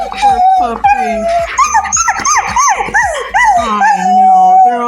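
A dog howls and yips in a wavering, rising-and-falling cry, broken by short whimpers and yelps, loud and close throughout.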